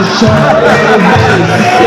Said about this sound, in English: The crowd's actually going crazy for him.